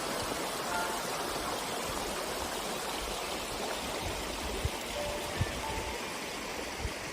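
At the source of the Marmitou, a mountain stream rushes in a steady, even wash of water noise with faint scattered splashes and no voices.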